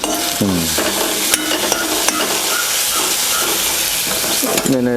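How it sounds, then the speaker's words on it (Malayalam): Crushed ingredients frying in hot oil, a loud, close, continuous sizzle and crackle with stirring, while voices talk briefly at the start and end. "എണ്ണ നന്നായിട്ട് ചൂടായിട്ട് ഇടാവും."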